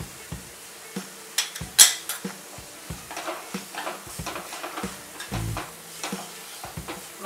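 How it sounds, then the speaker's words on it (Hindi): Chili powder and coriander powder roasting with dal in a pan for palak dal bhaji: a soft sizzle underlies frequent spatula taps and scrapes against the pan, close and uneven in rhythm. "मसालों को अच्छे से भून लेना है"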